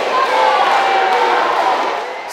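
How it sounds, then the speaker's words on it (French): Thunderous applause from a crowd of workers, mostly women, welcoming the president of Burkina Faso at an outdoor gathering, a loud, dense, sustained roar of clapping that fades slightly at the end. "tonnerre d'applaudissements pour accueillir le président du Faso"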